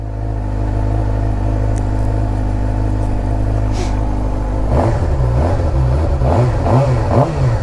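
A 2023 Suzuki GSX-R600 sport motorcycle with stock exhaust idles steadily with a deep, even burble, then the engine note shifts into a lumpier, pulsing rhythm near the end.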